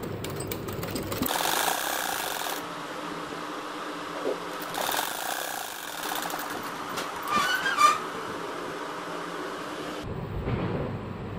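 A sewing machine runs steadily while stitching a double bed sheet, a close continuous whirring drone that rises and falls in speed and stops abruptly near the end.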